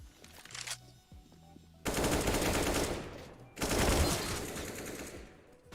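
A video game demo plays sprays of automatic gunfire in two long, loud bursts separated by quieter gaps with faint background sounds, and no one speaks.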